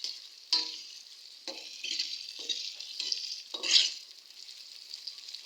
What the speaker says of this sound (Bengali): কয়েক মিনিট ভেজে নিব।